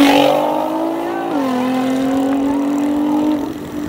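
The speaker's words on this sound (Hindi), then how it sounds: "गाड़ी जा रही है" A car on a Saturday night race track in Karachi drives past with a loud, sustained engine drone whose pitch dips and holds as it goes by, fading slightly at the end.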